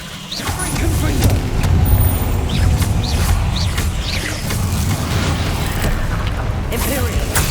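Fiery Confringo blasting-curse spells in the video game Hogwarts Legacy burst and rumble repeatedly over a dense, loud background of game effects, with a voice heard calling out.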